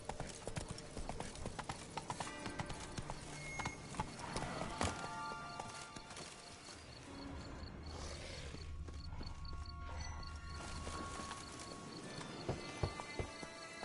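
Hoofbeats of Roach, Geralt's horse in The Witcher 3, clip-clop steadily across nearly fourteen seconds amid game ambience, with a brief whinny-like sound and faint mechanical noises mixed in.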